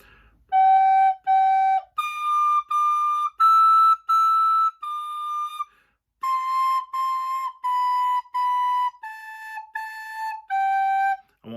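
A wind instrument plays Twinkle Twinkle Little Star in a third-grade music lesson, a string of clear, separate sustained notes with brief gaps between them, close and alone with no talk.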